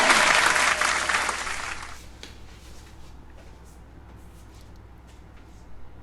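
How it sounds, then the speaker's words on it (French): A burst of hand clapping, loud for the first two seconds and then fading away into a quiet background with a few soft scattered sounds. "Non, j'applaudis."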